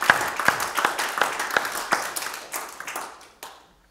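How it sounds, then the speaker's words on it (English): A church congregation claps together in a loose, roughly rhythmic run of hand claps, about two per second, that softens and trails off into a few scattered final claps. "Give the Lord a hand clap."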